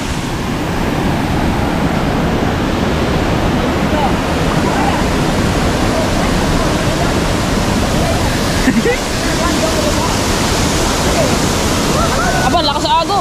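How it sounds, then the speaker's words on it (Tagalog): A strong river current rushes loudly and continuously in a broad, unbroken roar of water, close by and steady throughout. "Aba, lakas sa agos."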